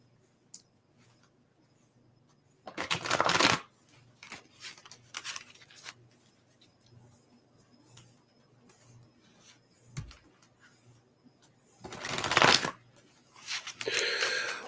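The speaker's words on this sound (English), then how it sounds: "A couple nice shuffles here." Playing cards riffle in a few short, crisp bursts, separated by quiet stretches with faint handling clicks; close by and moderately loud.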